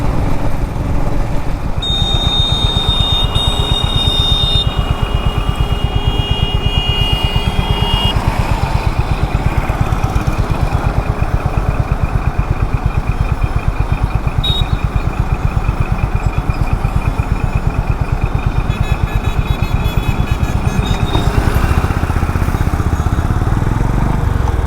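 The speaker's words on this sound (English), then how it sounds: "It's a very relaxed engine that Honda has provided in this setup." A Honda motorcycle engine drones steadily while cruising on a highway, a constant close mechanical hum mixed with wind rush and a faint high whine, with no speech.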